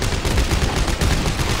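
Rapid gunfire from a weapon in Dead Space 3, a quick burst of repeated sharp shots packed close together over a little more than a second, loud and up front with no voices.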